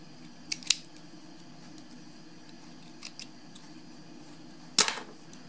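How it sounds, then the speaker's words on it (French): Small scissors snip tiny threads on a cotton newborn mitten, a few crisp close clicks early, two faint ones midway and a sharper double snip near the end, over quiet room tone. "On coupe les petits fils."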